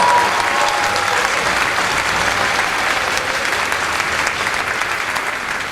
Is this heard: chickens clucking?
no